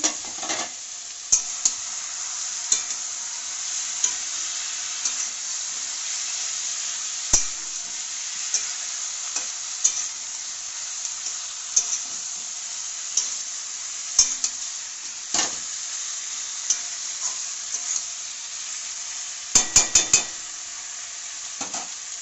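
Chicken being sautéed in a pan, a steady bright sizzle throughout with frequent scraping stirs and occasional clinks of a utensil against the pan, close and continuous.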